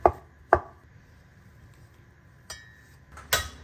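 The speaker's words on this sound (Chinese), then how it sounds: "然后斜刀切片" A kitchen knife slices diagonally through a ham sausage on a cutting board, giving four sharp, isolated chops spaced irregularly across a few seconds in a quiet room.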